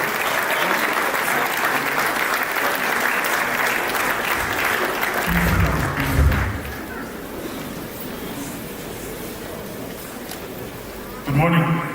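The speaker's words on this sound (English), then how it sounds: "Ladies and gentlemen, let's put our hands together for Mr. Sid Shagaya." An audience at a university matriculation ceremony applauds in a broad, sustained wash of clapping that softens midway, with a voice speaking over it near the end.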